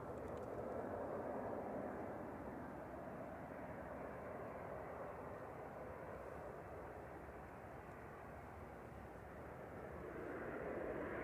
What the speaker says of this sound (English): Ryanair from Shannon should be landing any moment.